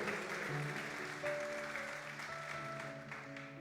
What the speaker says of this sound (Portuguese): Você pode aplaudir a Ele? Por favor, faça com alegria.